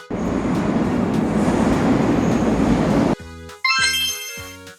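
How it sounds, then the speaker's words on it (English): A subway train roars steadily through a tunnel, a loud continuous rumble, then cuts to a few short mechanical tones and a rising electronic whine. "A subway train travels deep in tunnels under the city."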